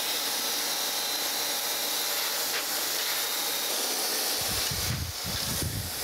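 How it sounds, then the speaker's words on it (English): A surface grinder finishes a straight edge with a steady, loud, broadband hiss of wheel on steel. Near the end a lower rumble joins in as the grinding continues. "We'll straighten it out here on the grinder"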